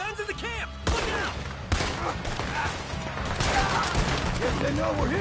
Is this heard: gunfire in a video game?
yes